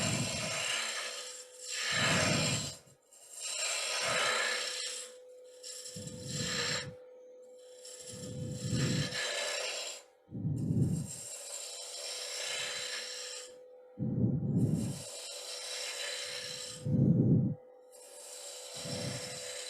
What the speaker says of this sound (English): He's sliding on that bevel on rough and gouge.